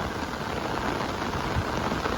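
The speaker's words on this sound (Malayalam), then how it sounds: "ഒടുക്കത്തെ മഴയാണ്" Heavy rain pours down outdoors over a landscape of paddy fields, a dense, steady hiss that holds at the same loudness for the whole stretch with no voices.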